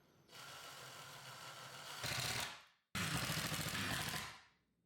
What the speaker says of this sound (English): I'm going to screw it into this wood.